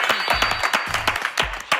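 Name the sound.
audience applause for ARMY and BTS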